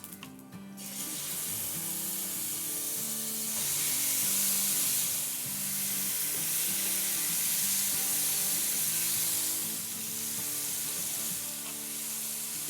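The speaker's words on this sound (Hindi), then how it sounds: "ये देखिए ये क्रैकल हो रहा है और इसमें अब हम अपने चिकन डाल देंगे" Chicken hits hot oil with crackling black cumin (shah jeera) for a BBQ chicken biryani, giving a loud, steady frying sizzle that holds without a break after a brief clatter at the start. No one speaks.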